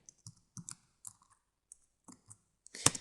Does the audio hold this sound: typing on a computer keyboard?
yes